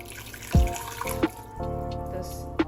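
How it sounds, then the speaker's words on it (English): Water pouring into a cooking pot holding beefsteak and its juices mixed with oil, a steady running splash with a few brief clatters of the pot, close and moderately loud. "I'm putting some water."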